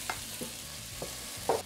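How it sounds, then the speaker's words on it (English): Onions, bell pepper and peeled garlic cloves are stirred in a pot, with soft sizzling under a few distinct scraping strokes of the spoon at uneven intervals, close and fairly quiet. "add in the onions and bell pepper and six peeled garlic cloves. Stir that as needed."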